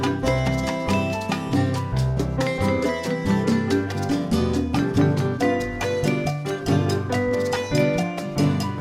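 Full-speed backing track for La Cucaracha from an easy piano lesson for kids, playing a steady, bouncy rhythm with bass and chords throughout, loud and alone without talking.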